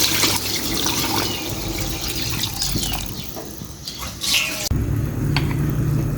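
Water pours steadily from a tap into a cooking pot while sinigang is prepared in a home kitchen, a continuous close splashing wash with a short break near the end before the flow resumes.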